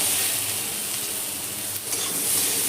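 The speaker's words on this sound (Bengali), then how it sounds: "টমেটোটা দিয়ে একটু নেড়ে নেবো" Tomato goes into a nearly oil-free pan of rui fish curry and gets a brief stir, a steady soft sizzle with faint scraping and no voices.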